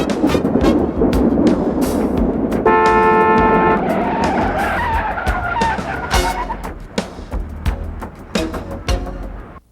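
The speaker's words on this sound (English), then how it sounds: "a sample of a car screech" A sampled clip: car tires screech loudly over a roaring engine, with a long squeal in the middle and bursts of skidding noise throughout.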